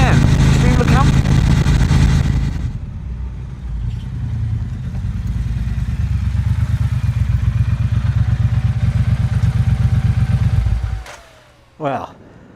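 A 2018 Triumph Bonneville Speedmaster motorcycle being ridden, its engine a loud steady rumble with rhythmic low pulsing and wind noise that fades out near the end, heard up close.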